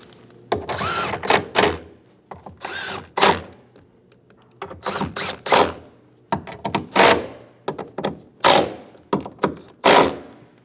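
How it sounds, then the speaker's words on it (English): Bolts being snugged down on a rear door of a 2001-2006 Chevrolet Silverado 2500 HD pickup, heard as repeated bursts of rapid tool rattling separated by short pauses, fairly close and loud with no talking. "Snug all the bolts down."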